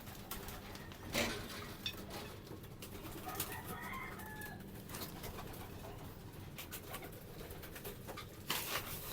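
Young pigeons in a loft before feeding, with soft cooing and low murmuring calls amid quiet rustling and a few louder bumps and flutters nearby, faint overall.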